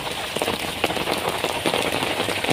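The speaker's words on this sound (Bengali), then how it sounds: "দেখেন কি পরিমাণে বৃষ্টি হচ্ছে।" Heavy rain pours down steadily during a flood that has lasted about a week, a dense, close hiss of drops striking surfaces with no letup and no voices.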